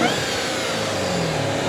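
Supercharged V8 of a 2026 Dodge Durango SRT Hellcat Jailbreak all-wheel-drive SUV, a loud steady engine drone and rumble that holds constant for the whole short stretch with no talk over it.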